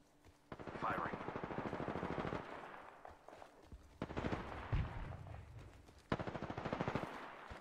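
Bursts of rapid automatic gunfire in a video game rattle in several long volleys, loud and continuous, with brief pauses and single heavier shots between them.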